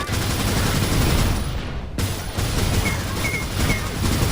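Weapon fire in the AssaultCube video game, rapid bursts of gunshots with a sharp cut partway, loud and close throughout, with no talk heard.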